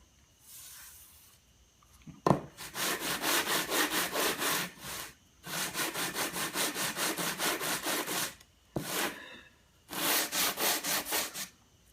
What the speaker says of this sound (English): I'm really tempted to sand it deeper and deeper to get rid of this glue marks